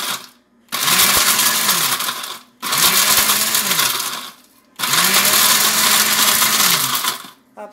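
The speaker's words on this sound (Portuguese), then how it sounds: "O liquidificador bate ele, ele vai ficar fininho." Blender grinding dried, toasted passion fruit peel in three loud pulsed bursts separated by short pauses, the motor whine rising and falling with each pulse.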